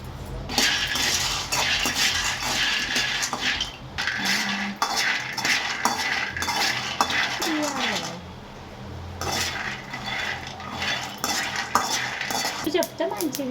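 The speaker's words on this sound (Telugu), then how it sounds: "ఇలా పల్లీలు దూరగా వేయించుకోవాలండి" Peanuts being dry-roasted in a kadai on a stovetop, a metal spatula scraping and stirring them in steady, busy clatters that run throughout, with brief pauses and occasional faint voices in the background.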